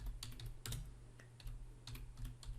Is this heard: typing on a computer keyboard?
yes